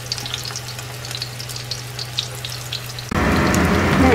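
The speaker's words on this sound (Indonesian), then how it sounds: "Goreng dulu." A fish fillet fries in hot oil for a Hong Kong-style sweet and sour dish, a steady close sizzle that turns into a louder, fuller crackle near the end.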